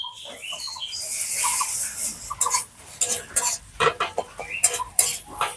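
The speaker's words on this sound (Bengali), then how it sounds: "পেঁয়াজটা হালকা করে ভেজে নিয়েছি দিয়ে দিচ্ছি এক চামচ আদা রসুন বাটা" Onions frying in a pan with a spoonful of ginger-garlic paste stirred in for aloo chop, a steady sizzle under clattering scrapes of a spoon against the pan, close and fairly loud.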